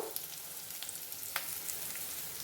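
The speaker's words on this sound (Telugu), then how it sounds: "ఒక ఎండుమిరపకాయ, కరివేపాకు మొత్తం వేసేద్దాము. చూడండి కొంచెంసేపు వేపుకుందాం." Dried red chilli and curry leaves fry in hot oil for a brinjal tomato dal, giving a steady, fairly quiet sizzle with faint crackles and pops.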